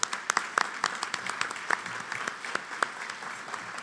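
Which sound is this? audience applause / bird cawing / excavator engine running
audience applause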